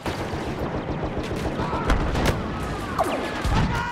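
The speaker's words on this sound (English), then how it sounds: "we are using the new blaster rifle, the EE-4" Rapid bursts of EE-4 blaster rifle fire in a Star Wars shooter video game, dense repeated shots over a constant battle din with scattered explosions, loud and continuous throughout.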